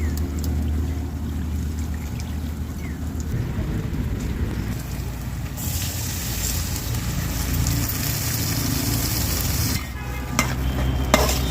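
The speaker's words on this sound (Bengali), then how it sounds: "ইন্দোনেশিয়া মাছ দিয়ে রান্না করতেছি লতি" Taro stolons cook with dried fish in a pan, giving a continuous loud sizzle and crackle with stirring, the frying growing brighter midway before a brief break and resuming.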